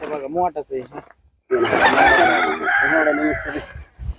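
A rooster crows loudly and close by in a long drawn-out call, following a stretch of talking.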